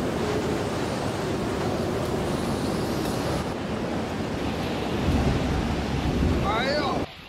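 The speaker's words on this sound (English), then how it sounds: "The force of the element has unprecedented in recent decades, wind speed of more than 200 km per hour." Violent windstorm in Xinjiang, China, with gusts over 200 km/h, roaring as a steady, loud broadband rush with buffeting against the microphone throughout, swelling stronger near the end.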